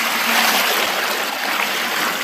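Water pours steadily for a summer cool drink made with tender coconut and plain water, a continuous bright splashing stream filling the whole clip with no voices.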